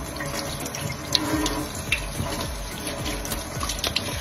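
Warm water running from a tap over African violet leaves being washed, a steady near splashing stream broken by small irregular spatters as the leaves are rinsed, with no voice.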